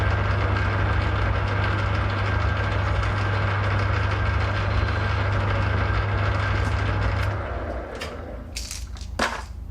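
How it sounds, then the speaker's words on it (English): A lathe tool cuts a slight chamfer on the inner edge of a Zenith K5 carburetor part from an International Harvester W30 tractor, a steady dense machining noise that stops near the end, followed by a few sharp clicks. "and we'll put a slight chamfer on the inner."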